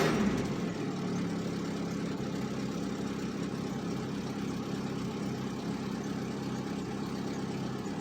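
Purple car's engine idling steadily after a cold start and heavy flooding, a continuous low rumble close by with a slightly rough, uneven beat and no talking.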